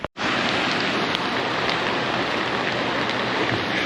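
Rain falling outdoors at a power plant during a catfishing trip, a dense steady hiss of drops on surfaces and water, loud and unbroken after a short gap at the start, with no talking.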